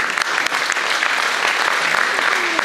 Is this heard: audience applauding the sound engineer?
yes